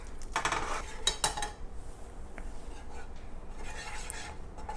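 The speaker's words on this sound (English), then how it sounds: "you want to use your whisk and whisk constantly until the mixture turns a light brown" Whisk scraping and clinking against a pan while butter and flour are stirred into a roux for mac and cheese, with a burst of brisk metallic clatter early on, then quieter steady stirring.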